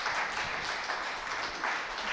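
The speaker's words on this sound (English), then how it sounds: "Give them a round of applause." An audience at a primary-education values talk breaks into applause, a dense, steady wash of clapping filling the short stretch without voices on top.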